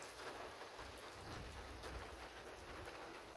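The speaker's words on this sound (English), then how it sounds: "the wind plus the rain" Wind and rain during a dust storm make a steady, fairly loud wash of broadband noise with no break and no voices.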